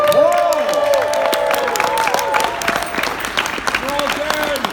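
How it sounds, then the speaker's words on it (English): Audience applause at a Fan X convention panel in Salt Lake City, a steady wash of clapping and crowd noise running throughout, with a voice talking over it. "Give our volunteers a big round of applause."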